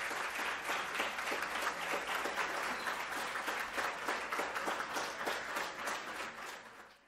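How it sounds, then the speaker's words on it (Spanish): An audience at a Christmas concert applauds children from a beginners' music programme, steady dense clapping that fills the room for about seven seconds before tapering at the end. "pedimos un fuerte aplauso para animar a nuestros niños"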